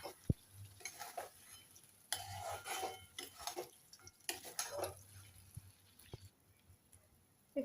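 Paneer and corn get stirred in a pan with a utensil, giving quiet scraping and clinking strokes in irregular bursts over a faint low sizzle.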